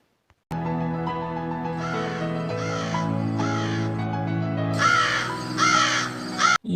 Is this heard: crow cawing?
yes